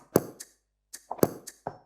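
Hand percussion with a mouth hi-hat in a beat: a sparse pattern of short, dry taps and chops, two clustered groups of hits separated by a brief gap, each knock paired with a crisp breathy hiss.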